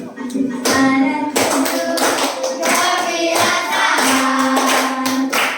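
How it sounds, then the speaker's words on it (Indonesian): A fifth-grade class of children sings a song together, their voices carrying a steady tune over rhythmic hand clapping that keeps time throughout, loud and close in a classroom. "Ulang lagi pakai tepuk tangan ya."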